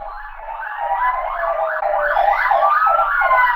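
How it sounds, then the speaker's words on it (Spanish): Emergency vehicle sirens wail loudly and continuously, their pitch sweeping up and down in rapid repeating cycles, with no voices present. "Ahora mismo hay aquí mucho ruido de sirenas"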